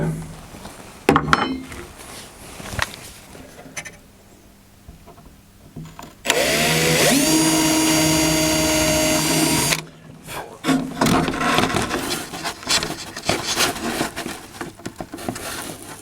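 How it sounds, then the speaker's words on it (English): A small power drill with a 3mm bit whines steadily for about three seconds while drilling a model aircraft fuselage, a loud high-pitched motor hum, preceded and followed by quieter handling clatter. "Now I'm going to begin by drilling with a 3mm drill bit."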